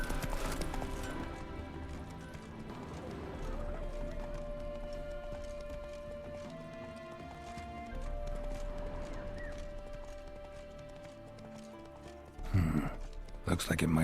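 A horse trots in The Witcher 3 video game, steady clip-clop hoofbeats under game music with a brief louder clatter near the end.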